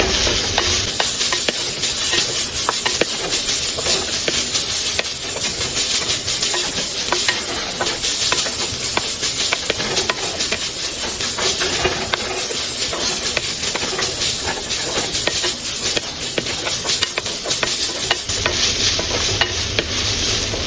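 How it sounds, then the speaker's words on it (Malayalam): Egg rice fries in a hot pan and is stirred continuously, a loud, constant sizzle broken by frequent scraping and rustling strokes of the spatula, with no talking. "എന്നിട്ട് വീണ്ടും ഇളക്കാം."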